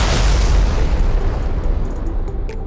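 An explosion sound effect bursts loudly at the start and rolls on as a broad rumbling roar that slowly fades, with faint crackles and debris near the end.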